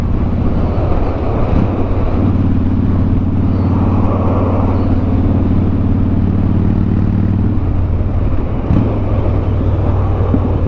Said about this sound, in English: Yeah, I totally dig the sound of this bike.